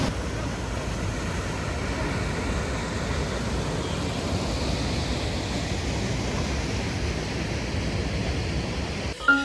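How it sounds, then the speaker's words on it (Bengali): A monsoon-swollen waterfall stream at Jhilimili in Bankura rushes in a steady, dense roar of broadband water noise, unbroken and moderately loud for the whole stretch. "এই জায়গায় আসলে জলের এই স্রোতের আওয়াজটা দেখা যাচ্ছে"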